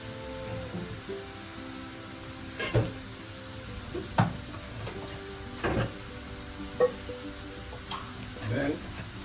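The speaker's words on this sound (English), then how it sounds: "we're gonna get our veggie chunks in with the onion and the garlic and our toast curry" Veggie chunks frying in a pot with onion, garlic and toasted curry for a Jamaican stew, a steady broadband sizzle with occasional sharper pops and clatters, a voice speaking over it at times.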